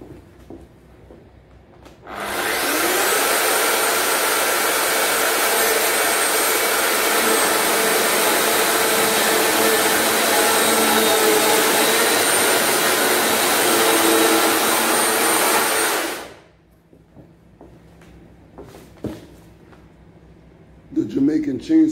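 A steady, loud electric chainsaw motor whine runs continuously for about fourteen seconds, starting and stopping abruptly, with quiet sounds before and after.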